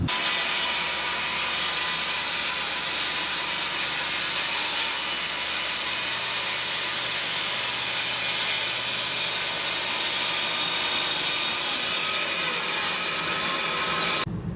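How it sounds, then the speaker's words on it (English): A saw cuts through plywood during an RV bunkhouse remodel, producing a loud, continuous hissing, rasping drone that runs steadily without a break and then cuts off at the end, with no talking. "I'm going to cut this piece off, and then be able to get the pieces of plywood out"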